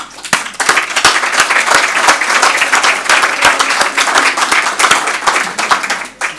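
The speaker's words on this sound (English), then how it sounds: "we owe a huge round of applause" A large crowd applauds steadily, dense clapping sustained throughout at full volume with no voices breaking through.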